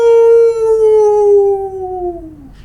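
A long, steady, wavering howl held for over two seconds and sliding down in pitch at the end, loud and close, a voice imitating a wolf during a children's storytime.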